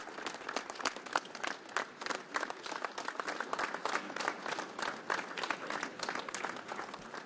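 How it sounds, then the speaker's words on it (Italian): A large crowd packed into a town square in Conegliano Veneto applauds a coffin at a funeral, with long, dense, steady clapping filling the whole stretch and no speech. "hanno accolto con un lungo applauso il feretro di Renato Donazzon."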